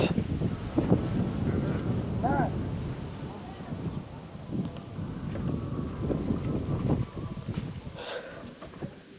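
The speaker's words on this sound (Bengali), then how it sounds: "আর বাতাস, অসাধারণ বাতাস।" Strong wind gusts over the microphone at a two-storey cottage at a hill resort in Mirinja valley, a loud continuous rumble with voices talking faintly underneath.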